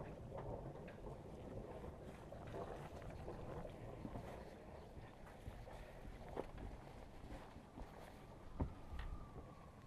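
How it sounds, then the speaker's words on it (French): A sailboat's engine runs smoothly and steadily while the boat leaves port, its quiet continuous rumble mixed with wind and water noise, with a few faint knocks. "On voit que ça recrache nickel, que tout se passe bien au niveau du moteur,"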